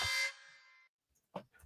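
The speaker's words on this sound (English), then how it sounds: "It's that banger alarm again." A harsh buzzing alarm sound effect plays on a podcast, one loud burst that fades quickly, followed by a brief voice.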